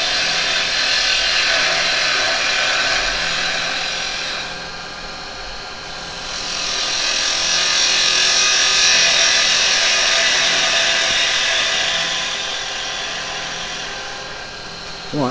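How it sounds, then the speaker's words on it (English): A woodturning lathe spins a yew blank as a gouge cuts it with the bevel rubbing, giving a continuous whirring, hissing scrape that swells and fades with each pass and dips briefly midway. "Get that bevel on. Rotate. Cut."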